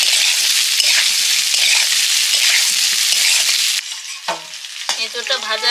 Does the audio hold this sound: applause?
no